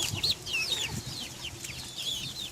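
A backyard flock of chickens with several roosters, some missing back feathers, clucks and chirps in a steady overlapping stream of high, quick calls close by, with no voices.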